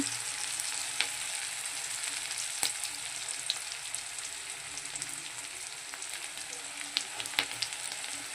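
Chopped onion, green chili and garlic frying in oil with black cumin, a soft continuous sizzle with scattered small pops and crackles, fairly quiet and steady.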